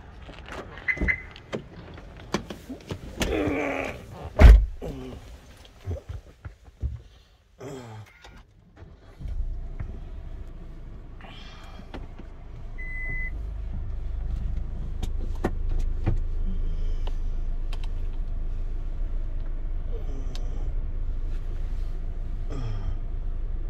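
A car drives slowly through a quiet, clean residential housing complex with a park in Sector 65, Gurgaon, its low engine and road rumble steady inside the cabin, with a few clicks and shuffles near the start.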